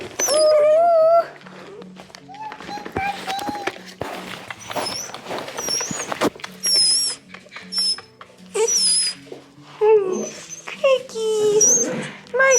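A pet dog whimpers and whines excitedly over and over, close by, in bursts of high-pitched cries mixed with footsteps, while a person talks and exclaims over it.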